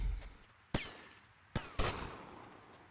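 Three sharp gunshots crack out of Grand Theft Auto: Vice City gameplay over a quiet background, the second and third close together, each with a short fading tail.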